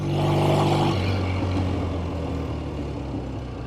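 A 1970 Triumph TR6 motorcycle is ridden, its engine giving a low, rising then easing hum with wind rush, fairly close, over a few seconds without speech.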